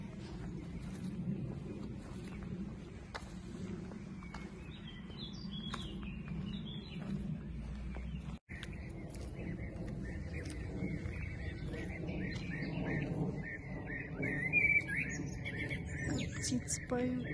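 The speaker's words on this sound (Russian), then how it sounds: "Птицы поют." Birds chirp and sing outdoors beside a house in Austria, a steady scatter of high tweets over low background rumble, growing denser and brighter toward the end.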